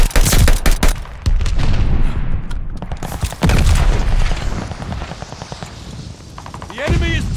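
Heavy Call of Duty Vanguard gunfire and explosions around the hardpoint, loud and close with rapid bursts, booming impacts and a whooshing sweep near the end, under game announcer speech.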